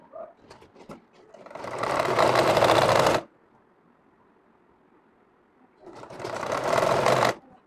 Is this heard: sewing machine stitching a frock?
yes